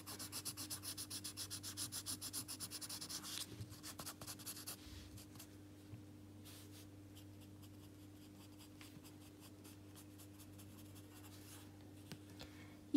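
Pencil shading on paper for a scenery sketch: close, rhythmic scratchy graphite strokes rubbing back and forth for a few seconds, then quieter, sparser scraping over a low steady hum.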